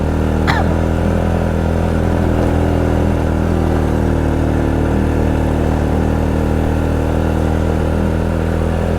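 Honda Supra X 100 motorcycle engine labouring steadily uphill on a mountain road to Dieng, a continuous loud mid-pitched drone with slight revving through the whole stretch.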